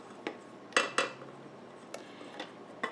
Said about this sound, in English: I'm just going to dump this all into my mixing bowl, not pan.